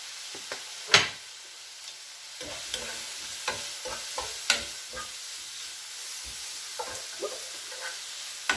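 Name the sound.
onion sautéing in a pan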